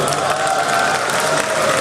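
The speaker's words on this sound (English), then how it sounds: "Give him a cheer." A crowd at a League of Legends esports match between Gambit Gaming and Evil Geniuses cheers and applauds in a dense, continuous wash of clapping and shouts.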